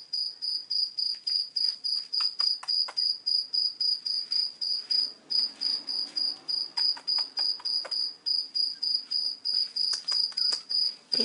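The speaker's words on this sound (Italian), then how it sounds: "questo rumore di questo grillo" A cricket chirps steadily in a fast, regular pulsing trill, loud and close, continuing without pause across the whole stretch.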